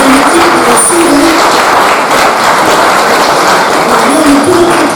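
Applause from the audience at a Téléthon charity event in Ploufragan, a broad steady clapping that runs loud and unbroken across the whole stretch, mixed with crowd noise and what sounds like voices or music in the background.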